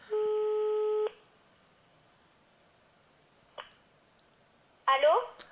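An outgoing phone call produces a steady ringback tone lasting about a second, then quiet line hiss, a faint click, and a short burst of voice near the end.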